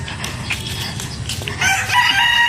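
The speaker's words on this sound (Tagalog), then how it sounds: "Nahabol yung manok." A chicken clucks nearby outdoors, a loud burst of clucks and squawks that rises into a longer, higher call toward the end.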